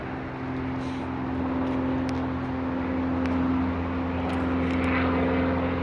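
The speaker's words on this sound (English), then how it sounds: "This is a tow plane that kept flying for the last 2 hours." A propeller tow plane drones overhead at an airfield, a steady, continuous engine hum that swells slightly toward the end, heard alone without talk.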